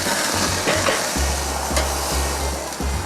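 A porterhouse steak is flipped on a Weber kettle grill and sizzles steadily, a loud close crackling hiss with low rumbling underneath, continuous throughout without any voices.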